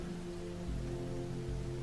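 Steady rain in a calm meditation soundscape, a soft continuous patter and hiss with a low hum beneath, unbroken and even throughout with no voices.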